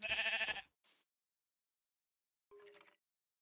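A sheep in Minecraft gives a loud close bleat, followed after a brief pause by a short burst of noise and then a fainter second bleat, with silence in between.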